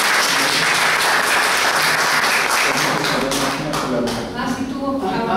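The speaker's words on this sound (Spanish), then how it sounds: "Pues yo pido un fuerte aplauso, por favor." Strong applause from the audience at a state tribute held in a museum of contemporary Indigenous art, a dense, loud round of clapping that thins toward the end as a voice emerges underneath.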